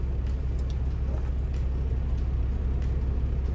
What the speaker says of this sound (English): the truck is running, so I hope you can still hear me well